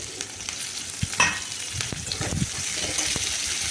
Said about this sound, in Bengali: তেল দেওয়ার পর আমি কড়াইয়ে পেঁয়াজ দিয়েছি কিছুটা আর কাঁচা লঙ্কা দিয়েছি